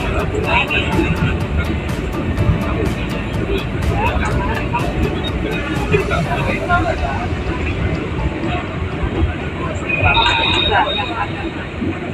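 The Jayabaya passenger train departs Malang station, rumbling and clattering nearby with a steady rhythmic clicking of wheels, as people talk over the noise and a brief squeal rises toward the end.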